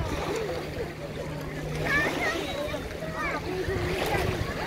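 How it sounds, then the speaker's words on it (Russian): Seaside ambience at Privetlivy Bereg hotel beach in Gelendzhik in fair summer weather: a steady wash of waves and wind with a faint motor-like drone, while a person talks over it. "Это пляж «Приветливый берег»."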